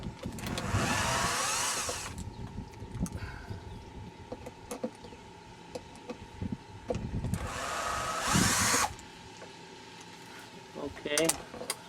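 A cordless drill backs out the screws of a stock MAP sensor during a Halltech Killer Bee install: two short whirring bursts several seconds apart, with small clicks and handling noises between them.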